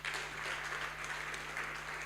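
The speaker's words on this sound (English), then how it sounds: "A round of applause," Steady applause from the audience at a virtual national students' anti-corruption challenge awards ceremony, a fairly faint, even wash of clapping with a low electrical hum beneath and no talk.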